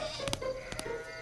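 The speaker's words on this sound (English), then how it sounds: "Hey, sheep! Go to sleep!" A sheep in a children's animated Bible story bleats twice in short, close calls over a quiet background hum.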